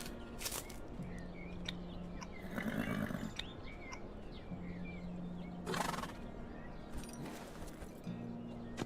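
Horse in the survival game HumanitZ whinnying several times, with faint hoof clip-clops and steady ambient game sounds underneath.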